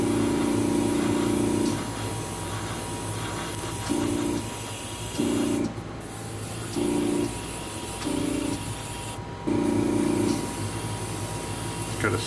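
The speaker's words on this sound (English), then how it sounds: "we're gonna be spraying Kcolors 60 Steel" An airbrush sprays Kcolors 60 Steel metallic paint in a steady close hiss, broken into several short bursts of varying length between pauses, over a constant background hum.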